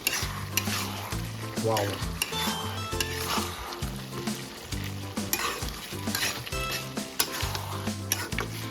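Village-style desi chicken curry sizzles in a pot while a spoon stirs it in repeated scraping strokes, with loud bursts of frying close by and a brief voiced exclamation.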